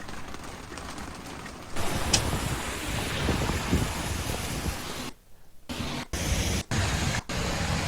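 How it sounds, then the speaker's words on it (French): Loud, steady rushing and drumming of water pouring down during a violent hailstorm in Canada, with hard patter throughout and a few sudden dropouts near the end. "L'eau qui se déverse."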